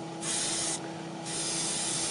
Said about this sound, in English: I got the Patriot 105, got it loaded up with some of the heavy chipping acrylic fluid by AK Interactive, and I'm just going to spray this on